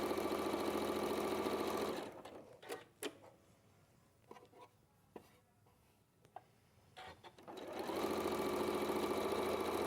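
A sewing machine stitches along a marked line while chain piecing fabric, a loud rapid mechanical whirr for about two seconds, pausing to a quiet stretch of clicks and handling noises before the steady stitching resumes.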